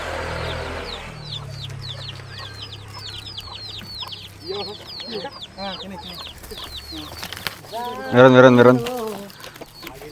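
A chicken clucks repeatedly close by in a rural yard, with a rapid series of sharp, squawky calls rising into a loud burst near the end while a person speaks briefly.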